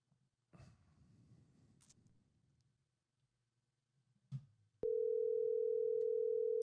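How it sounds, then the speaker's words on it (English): A telephone dial tone sounds while a call is placed to a podcast guest, a steady continuous tone starting abruptly after a few brief rustles and clicks and holding loud and alone to the end. "let's dial up Big Kevin"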